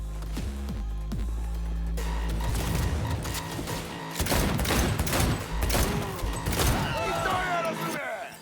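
Cyberpunk 2077 gunfire crackles in rapid, overlapping bursts, loud and sharp against a rumbling game soundscape, while voices speak and clanking mechanical sounds drift through the background.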